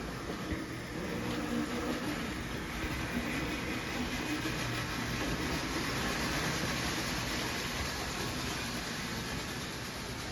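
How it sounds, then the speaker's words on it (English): A steady, continuous rumbling hum of a postwar Lionel model train pulling out of a station on a layout, with an even noisy whir throughout and no speech. "This train now has the all clear to leave the station"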